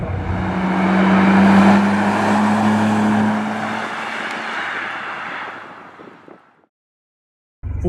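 A 25-year-old Nissan Skyline GT-R driving, its engine droning loudly with a steady tone that swells and slowly fades out to silence before the sound cuts back in abruptly at the end.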